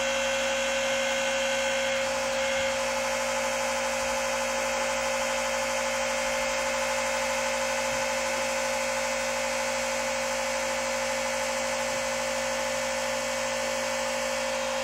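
A wine and beer making machine runs with a steady, continuous mechanical hum and whir that holds level from start to finish, with no talk over it.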